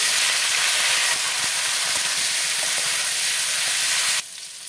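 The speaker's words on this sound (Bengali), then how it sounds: "এই তেলে ফুলকপিটা ভেজে নেব" Cauliflower frying in mustard oil in a pan after potatoes, a loud, dense, continuous sizzle and hiss close up that drops away abruptly near the end, with no voices.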